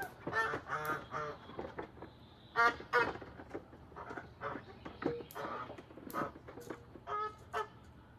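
A flock of geese at feeding time honk and squawk in repeated close, uneven bursts, several calls overlapping, with quiet gaps between.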